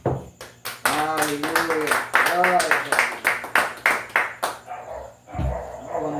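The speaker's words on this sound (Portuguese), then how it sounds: "Uma salva de palmas para o Senhor." A church congregation claps in strong, rhythmic bursts, loud and close, while a voice calls out over it. A brief pause follows, then scattered claps continue.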